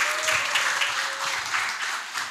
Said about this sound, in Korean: 마지막 순서인 만큼 더 큰 환호와 박수로 맞이해 주세요.